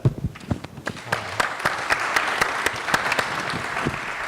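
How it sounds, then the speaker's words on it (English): An audience at a conference discussion session applauds the panel, starting with a few scattered close claps and building into steady, moderately loud clapping that continues throughout. "we have to thank and applaud this panel"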